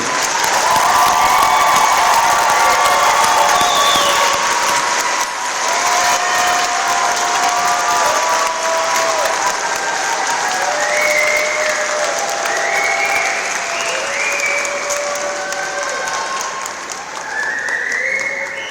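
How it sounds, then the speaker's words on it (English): A large graduation crowd applauds the class of 2022 at the Quaboag Middle/High School commencement, with loud sustained clapping and scattered cheers and whistles running unbroken for nearly twenty seconds. "Another big round of applause to the class of 2022."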